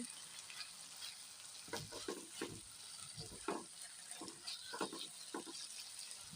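Boal fish bhuna with tomato and chopped onion sizzles in a pan, with soft frying underneath and repeated bursts of stirring scrapes, close and moderately loud.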